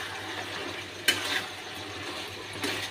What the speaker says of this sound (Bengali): ধনেপাতা দিয়ে একটু নেড়ে নেব